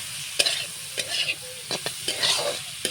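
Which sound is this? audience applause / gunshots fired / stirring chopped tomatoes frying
stirring chopped tomatoes frying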